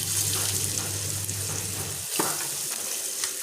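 Sliced onion frying in hot oil with curry leaves, a steady sizzle that briefly dips as the onion goes in, followed by scattered crackles and a few soft utensil taps.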